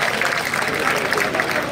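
Audience applause at a Veer Teja singing event in Bader, a steady burst of many hands clapping from a crowd throughout.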